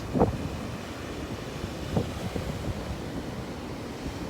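Steady low wind rumble buffets the microphone, with a soft wash like sea waves underneath and a couple of brief gusty thumps.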